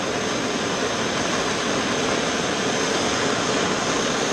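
A torch roars steadily while heating an engine valve part from a Jaguar MKII to cherry red, a loud, unbroken hiss of burning gas close by with no pauses and no talking.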